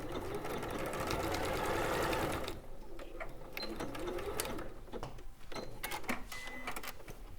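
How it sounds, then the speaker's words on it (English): A sewing machine runs in a steady continuous whir while stitching together four fabric wall pieces of a chimney for a house project, then gives way to shorter mechanical bursts and clicks. "And then we sew this."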